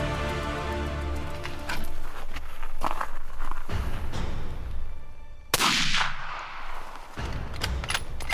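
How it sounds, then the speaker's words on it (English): A rifle shot firing a 147 grain DRT bullet at a mule deer buck during a November hunt in Utah, one sharp loud crack midway through, preceded by quieter outdoor rustling and distant thumps. "Travis gets prone, ranges the buck in the Eliminator laser scope, and sends the 147 grain DRT downrange."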